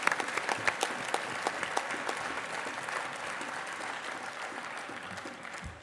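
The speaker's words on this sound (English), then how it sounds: "Yeah, that deserves a round of applause." Audience applause at a union congress, a crisp burst of clapping that starts loud and gradually thins and fades over several seconds.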